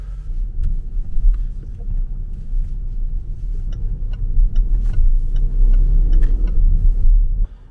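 A Range Rover drives onto a freeway with a deep, continuous engine and road rumble that swells slightly as it gathers speed.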